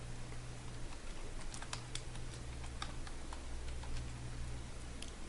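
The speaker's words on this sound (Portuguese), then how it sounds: "Então basta digitar Windows Explorer" Quiet computer keyboard typing, a loose run of light key taps clustered mid-clip, over a steady low electrical hum with no voices.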